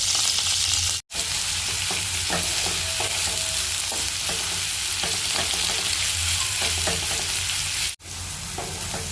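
Chopped onion frying in oil over black cumin and chilli tempering, a dense continuous sizzle with stirring scrapes and a couple of brief dropouts, close and loud, no voices.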